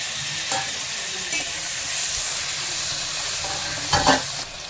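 Onions and tomatoes sauté in a pan for fish curry, giving a steady hissing sizzle with scraping stirs from a spoon and a burst of louder clatter near the end.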